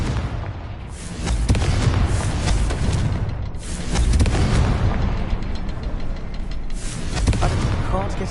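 Confringo fire spells blast in Hogwarts Legacy, several loud booming explosions about every three seconds, each a heavy burst fading into crackling rumble, up close with dense battle noise between.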